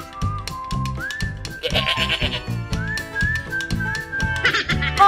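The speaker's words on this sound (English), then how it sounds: "the sheep are grazing" Grazing sheep on a toy farm diorama bleat in quavering calls over a steady rhythmic music bed, with a whistle-like tone running through.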